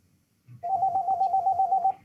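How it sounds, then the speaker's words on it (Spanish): A telephone rings nearby, a clear electronic warbling tone pulsing rapidly and steadily for over a second after a brief soft knock, with no talking. "porque está sonando el teléfono"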